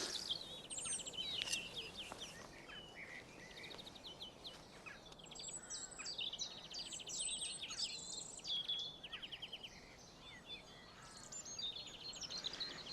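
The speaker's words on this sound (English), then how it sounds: "Birds singing. Is that not the representation of spring?" Birds sing and chirp in a spring garden with steady overlapping calls and twitters. Insects buzz faintly underneath and the whole scene stays quiet and outdoor, with no voices.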